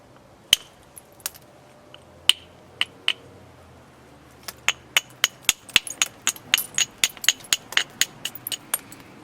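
Flintknapping on a dacite cobble, thinning and shaping it: sharp stone-on-stone clicks, scattered at first and then a dense run of rapid strikes, close and crisp in a quiet room.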